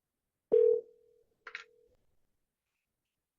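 A telephone number is dialed again: one loud, close tone held for a moment, then a shorter tone and a couple of faint beeps in an otherwise silent line.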